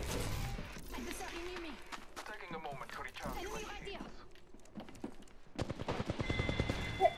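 Rapid gunfire from the video game Apex Legends, dense bursts of shots building toward the end over game effects and voices talking throughout.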